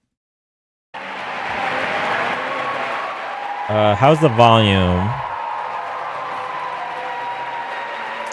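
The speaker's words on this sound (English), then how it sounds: "they'll be done clapping soon" An audience in a hall keeps up loud, steady applause and clapping at a distance. A nearby voice talks briefly over it partway through.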